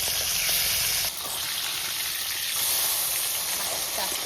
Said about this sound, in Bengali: এখন চলে যাবে পাবদা মাছ তেলের মধ্যে